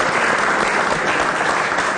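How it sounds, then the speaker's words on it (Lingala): A crowd at a Congolese music talk show claps loudly and steadily, a dense uninterrupted wash of applause close up, with no voices over it. "Est-ce qu'on peut applaudir très très fort?"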